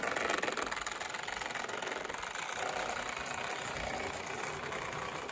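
An O gauge model locomotive at full throttle straining to haul a heavy load, giving a continuous close whirring motor drone with rapid rhythmic mechanical clatter and no voices.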